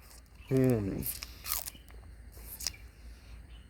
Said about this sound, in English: I love chewing on my sugarcane in the morning as a snack.